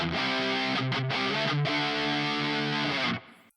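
Electric guitar through a Nano Cortex capture of a JP2C amp with a factory 4x12 cabinet impulse response, noise gate, chorus and reverb, playing distorted sustained chords that ring loudly and then cut off sharply near the end.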